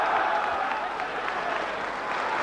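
A crowd at a 1986 boxing match in Yorkshire applauds and cheers in a continuous, dense wash of clapping and voices that holds steady for a couple of seconds.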